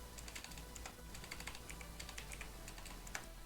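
Quiet, steady tapping on a computer keyboard while writing Discord.NET code, irregular clusters of light clicks with brief pauses, close by and without talk.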